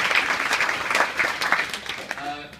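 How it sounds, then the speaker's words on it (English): Applause from a dinner audience at a closing dinner speech, a steady patter of clapping over about two and a half seconds with voices mixed in underneath. "A big round of applause."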